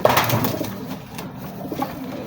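A young racing pigeon, being prepared for a derby, gives a short, close coo that stands alone with no talk over it.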